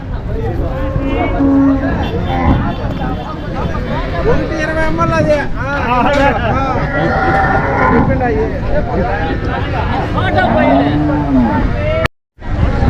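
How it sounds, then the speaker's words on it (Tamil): Cart bullocks moo at the Vaniyambadi cattle market in India over a dense hubbub of voices. The lowing is loud and sustained, and a few distinct calls stand out before the sound briefly cuts off near the end. "ஸோ இந்த வாரம் பார்த்தீங்கன்னா ஒரு மூணு ஜோடி தாங்க வந்திருக்கு ஸோ வண்டி மாடுங்க"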